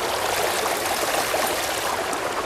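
Creek water flows steadily in a close, loud, continuous rush and trickle, with no voices present.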